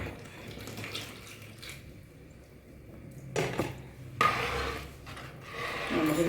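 About two and a half cups of first-extract coconut milk pour into simmering banana payasam in the cooking pot, a steady liquid splashing that swells midway and grows louder toward the end, with no voices.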